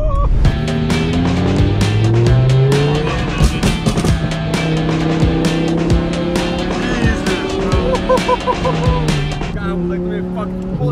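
A monster truck drives in an extreme demolition derby, its engine revving loudly under music and voices, with sharp impacts and rising engine tones throughout.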